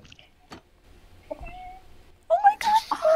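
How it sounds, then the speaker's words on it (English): A cat meows in the Minecraft video game, a few short thin mews with a brief tick before them, then a louder, wavering meow at the end. "I want to hear the cat."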